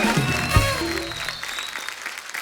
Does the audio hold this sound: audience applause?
yes